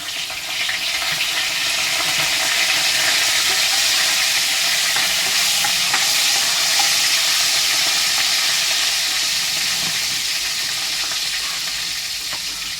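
Bay leaf sizzles in hot oil as it is stirred around a pan, a loud, continuous hissing fry with scraping stir noises throughout.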